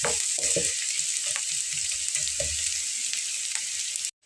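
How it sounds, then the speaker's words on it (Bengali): Sliced onions fry in a little oil, stirred to make crisp birista for Ramadan iftar snacks, producing a steady close sizzle with soft scraping strokes of stirring throughout, then an abrupt cut. "অল্প তেলে খুব ভালো করে নেড়ে চেড়ে ভেজে নেব"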